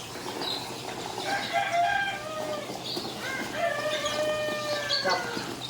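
Two-day-old RIR layer chicks cheep in high, rising and falling peeps, many overlapping in a busy, continuous chorus close by, with a low background hum.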